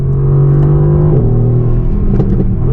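A car with a 7-speed double clutch transmission accelerates, its engine a loud, steady droning rumble with a smooth pitch drop at a gear change midway, heard close from inside.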